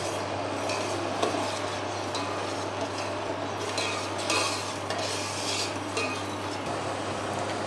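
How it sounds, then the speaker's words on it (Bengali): A spoon works steadily through a khaja sweet mixture tinted with a drop of food colouring, a continuous close rasping and scraping against the vessel over a low steady hum, with no voices. "ভালো করে মিশিয়ে দেবো"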